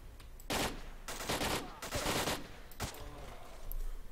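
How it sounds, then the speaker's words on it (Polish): In the S.T.A.L.K.E.R. Lost Alpha video game, loud gunfire comes in several separate bursts of rapid shots, some longer than others, against a quiet backdrop with no talking. "Kto we mnie strzela?"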